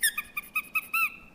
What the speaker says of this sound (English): Is this cute little teether from Target, and the best part is it squeaks.